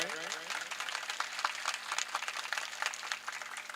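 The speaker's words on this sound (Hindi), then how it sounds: "सम्मान के लिए तालियां लगाएं" An audience at a Shrimad Bhagwat Katha religious discourse in a village applauds in a continuous, moderately loud patter of many hands, with a steady tonal hum beneath it.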